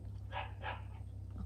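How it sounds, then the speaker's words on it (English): Two short barks from a dog that is playing with another dog, spaced close together, slightly distant and moderately loud over a steady low hum. "Sorry if you guys hear the doggos barking."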